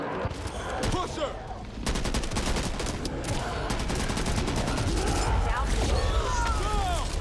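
Assault rifle gunfire in the co-op zombie shooter Back 4 Blood, loud rapid bursts and sustained volleys mixed with other weapon fire and booms, with players talking over the shooting.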